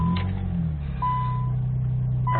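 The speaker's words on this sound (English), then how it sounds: "So the car's just idling right now." Idling engine of a 2000 Nissan Maxima GLE with about 109,000 miles, heard from inside the closed cabin: a steady low hum broken by a few bright, sustained electronic beeps.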